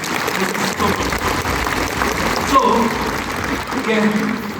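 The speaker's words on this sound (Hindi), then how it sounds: "तो एक बार इस गट्स के लिए तालियां जरूर बजा दीजिए।" An audience applauds in a steady, continuous wash of clapping, with a voice talking over it.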